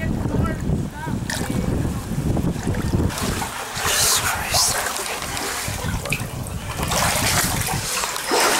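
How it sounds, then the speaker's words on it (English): Someone wades through knee-deep floodwater during a state of emergency, with sloshing splashes and water swirling around the legs mixed with wind buffeting the microphone, fairly close and continuous. "I'm in knee-deep water."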